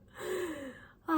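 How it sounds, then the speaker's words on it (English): A single deep breath drawn in and let out, soft and close, slowly rising and falling, followed by the start of a voice at the very end. "Deep breath."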